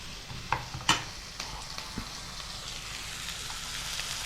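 Ginger garlic paste stirred and frying in a pan over a medium flame, with a soft continuous sizzle and a couple of scraping clicks from the spoon near the start.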